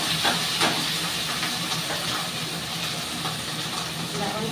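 Neem leaves and eggplant hit hot oil, giving a loud, steady hiss of frying with a few sharper crackles early on.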